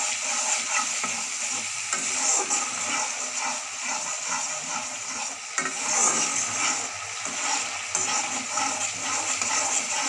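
Yogurt is stirred into a cooking gravy, giving a continuous wet scraping and bubbling sizzle that stays steady for the whole stretch, with no voices.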